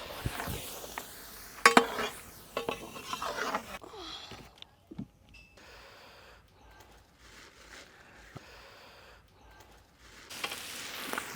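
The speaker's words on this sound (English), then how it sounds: "fry on high flame until evaporates water from chicken." Chicken seasoned with salt and turmeric fries on a high flame, the okra chicken masala base giving a crackling sizzle with sharp spatula clatters early on, settling into a quieter hiss before a louder burst of sizzling at the end.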